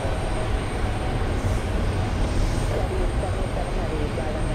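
A C-17 Globemaster military transport aircraft taking off, heard as a steady, loud broadband engine roar that holds constant throughout.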